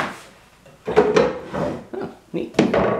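Wooden drawers in a lock workshop room pulled open, giving several rubbing, knocking slides and clunks close by, with a little movement noise between them.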